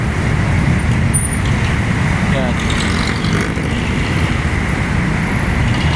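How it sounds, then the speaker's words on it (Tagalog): Heavy road traffic streams past below, a dense, continuous roar of cars, buses and trucks with a brief high brake squeal, while someone talks over it. "Pero dito sa baba guys, oh, grabe ka-traffic."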